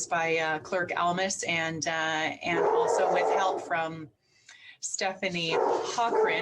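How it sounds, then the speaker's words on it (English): A pet dog barks repeatedly nearby during an online town council meeting, sharp yapping bursts mixed in with a person speaking. "I apologize, that's my dog"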